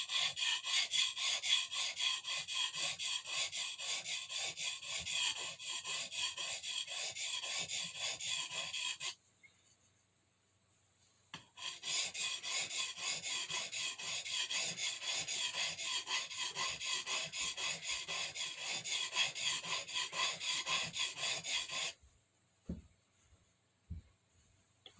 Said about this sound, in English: that is the way that I sharpen the chisel